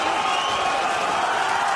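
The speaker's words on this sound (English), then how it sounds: "And the crowd here in Copenhagen roaring" Spectators at a boxing event in a Copenhagen arena make a dense, continuous roar that stays loud and even throughout.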